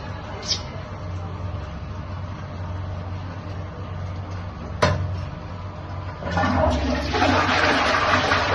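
A newly replaced toilet flush mechanism is tested: a sharp click, then a rushing surge of water that swells and keeps draining loudly near the end, preceded by a low indoor hum.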